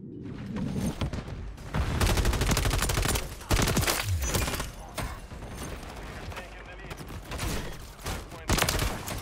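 A RAM 7 assault rifle fires in Modern Warfare 3, loud close bursts of rapid automatic fire broken by short pauses, with a voice talking over the shooting.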